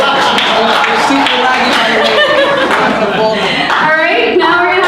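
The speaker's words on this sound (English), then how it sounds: "can you get a round of applause for Sean up top?" Audience applause for dancer Sean at a Video Hack Day closing session, a dense, steady wash of clapping and crowd noise throughout, with voices mixed in.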